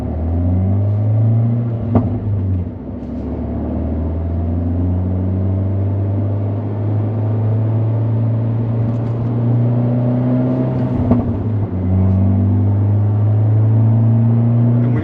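A Fiat 124 Spider Abarth fitted with a big turbo pulls hard toward redline, its engine note rising in loud sweeping pulls from inside the car, with brief dips at gear changes before climbing again.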